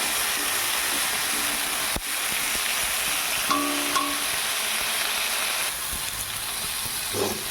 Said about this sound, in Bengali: এটা একটু ভাজা ভাজা হোক।